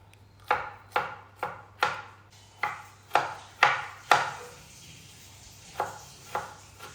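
Onion, green chilli and ginger being chopped with a knife on a board in a home kitchen: about ten crisp, separate chops in an irregular rhythm, close and clear, with a short pause before the last two.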